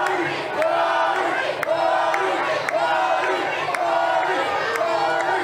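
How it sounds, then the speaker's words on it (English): A wrestling event crowd chants a wrestler's name, Kari, in a steady repeated rhythm of loud massed voices filling the arena, with sharp claps and shouts punctuating the chant. "You hear his name being chanted by many of the acts"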